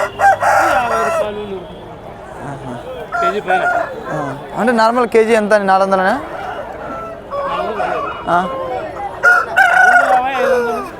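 Several roosters crow repeatedly at a weekly chicken market while people talk and bargain nearby, the crows overlapping the chatter.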